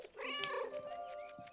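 A cat in the video game 11-11: Memories Retold gives a single drawn-out meow that rises then falls, fairly faint and close, followed by quieter background sounds.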